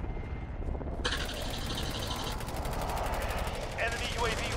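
Rapid automatic gunfire in Call of Duty Warzone aimed at a UAV overhead, a loud sustained burst of shots over game ambience and aircraft hum.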